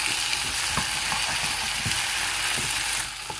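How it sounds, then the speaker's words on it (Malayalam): Potatoes are stirred into sizzling masala in a pan for an aloo curry, with a steady close frying hiss under repeated scraping spoon strokes, and no talking. "അപ്പൊ നമ്മുടെ ഈ ഉണ്ടാക്കിയേക്കുന്ന മസാലയിലേക്ക് തന്നെ നമ്മുടെ ഈ കിഴങ്ങിനെ ഇട്ട് കൊടുക്കാം. ഓക്കെ. നമുക്ക് നന്നായിട്ടൊന്ന് ഇളക്കി കൊടുക്കാം."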